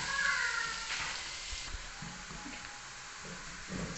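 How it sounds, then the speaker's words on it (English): Onions and garlic hiss and sizzle steadily in a pot while making beef pilau, with soft scraping and knocking from stirring at moderate volume and no talking. "So you go in with your garlic. You stir up everything, the onions and the garlic."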